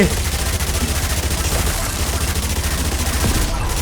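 Rapid gunfire rattles nonstop in the zombie shooter Yet Another Zombie Survivors, a dense, loud fusillade of overlapping shots that never lets up.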